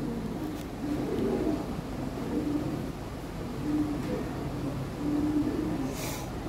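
Lahori pigeons cooing in soft, low, repeated phrases at a moderate distance, several rounds of cooing over a steady background hum.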